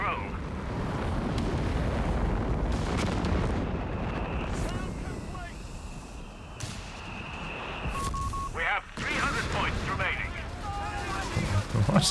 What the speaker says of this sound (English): There's another creeping barrage.